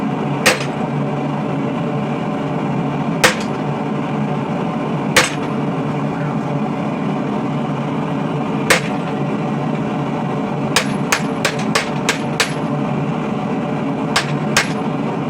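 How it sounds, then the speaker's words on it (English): Sharp metallic hammer strikes ring out on a chisel and punch set into hot metal while detailing a fantasy warhammer. Single blows come first, then a quick run of several, all close over a steady forge-shop hum. "Chisel and turn it 180 degrees and do a little work on this horn."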